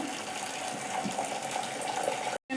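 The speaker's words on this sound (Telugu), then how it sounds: "ఇంకా వాటర్ గిట్ట పడేయకుండా ఒక గిన్నెలోనే వంచుకోవాలి" Starchy water drained from par-boiled rice pours steadily into a vessel while cooking chicken biryani, a continuous soft splashing gush that cuts off abruptly near the end.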